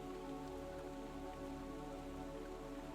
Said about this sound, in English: As evening deepened outside and the rain continued